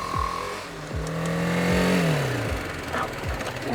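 Motorcycle engine revving through a tight U-turn during test practice: throttle rising and falling in close, loud surges with a sustained higher whine in the middle, heard alone without talk.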